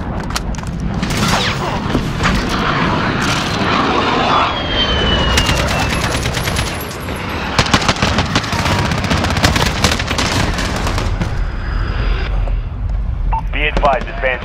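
Close air support aircraft in Modern Warfare: loud, continuous roar of jet engines and heavy rolling booms, with rapid bursts of gunfire and repeated impacts running under radio chatter throughout.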